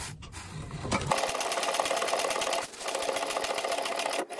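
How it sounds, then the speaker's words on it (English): A sewing machine back stitches a seam on a laptop bag. After a brief pause it settles into a fast, steady mechanical whirr with rapid needle ticks, then stops briefly and starts again. "I'm going to back stitch a couple of times to make sure that that is securely stitched through."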